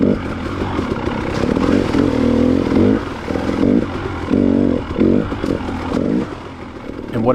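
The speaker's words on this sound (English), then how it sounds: "I'm probably the first bike to lay down some tracks for this year on this trail, and it's still a little bit wet" Dirt bike ridden along a rough, still-wet spring trail, its engine droning steadily and rising and falling with throttle changes, close and loud, with no talking.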